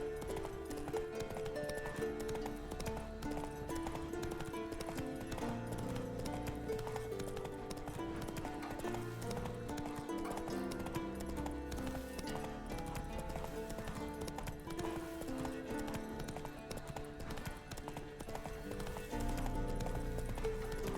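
Roach, the horse in The Witcher 3, gallops with a steady, continuous clip-clop of hooves, mixed with music from the game.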